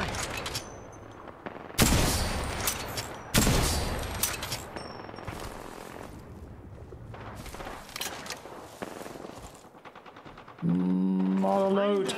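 Bursts of gunfire in Apex Legends come in loud, dense volleys that stop and start, with quieter gaps between them. A low tonal horn-like sound enters near the end, and a voice talks at times.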